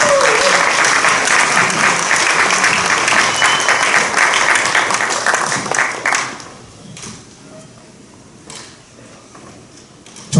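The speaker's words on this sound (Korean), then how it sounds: "뜨거운 박수 부탁드립니다." Dense applause from the assembly audience at the 111th general assembly election candidates' policy debate of the Presbyterian Church in the Republic of Korea. It fills the hall for about six seconds, then thins to scattered claps and fades.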